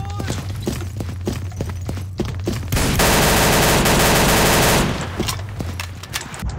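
Pistol shots crack in quick succession in the World War II shooter Day of Defeat, followed by a loud, sustained burst of automatic fire and a few more sharp reports afterward.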